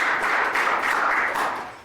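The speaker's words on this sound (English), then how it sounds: "Let's give Maddie another round of applause." An audience at a school math scholars presentation gives a presenter a brief, steady round of clapping that fades toward the end.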